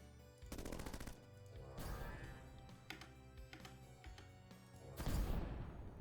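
Gunfire in the video game Bionic Dues, a few bursts of rapid shots and impacts over a low game background, with a heavier crash near the end.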